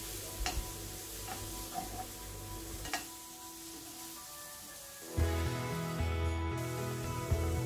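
Mushroom pepper fry with pepper-cumin powder being stirred in a pan, with faint ticks and scrapes of the spoon over a soft sizzle, which grows louder and denser partway through.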